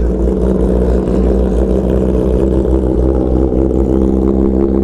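A loud, close Kawasaki ZX motorcycle engine idles with a steady low rumble and throbbing hum, running continuously with no voices.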